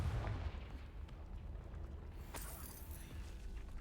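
A Confringo fire spell blasts off in Hogwarts Legacy as a muffled, rumbling explosion, with a sharper crack near the middle over a steady low background.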